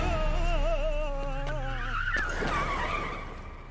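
Cartoon car tyres screech in a loud, sustained skid as a speeding car brakes hard, the squeal rising and wavering over engine rumble before fading out.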